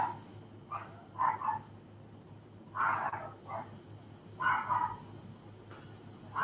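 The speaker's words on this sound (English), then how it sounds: "Sorry about the dog barking again." A dog barks in short bursts, a few clustered barks repeated several times, somewhat distant over a low steady hum.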